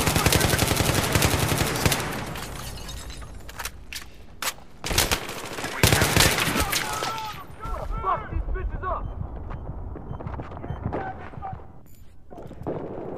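AUG A3 assault rifle gunfire in Battlefield 3, rapid bursts of automatic shots mixed with heavier blasts and explosions in a loud, dense battle that thins out toward the end.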